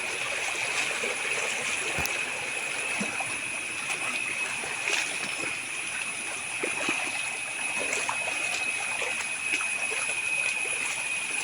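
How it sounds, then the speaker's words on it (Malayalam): Water draining off a flooded paddy field into a river, a steady rushing trickle with small splashes, continuous and moderately near, with no voices. "പാടത്തു നിന്ന് പുഴയിലേക്ക് വെള്ളം ഒലിച്ചു പോകുന്ന കാഴ്ചയാണ് ഇട്ടത്"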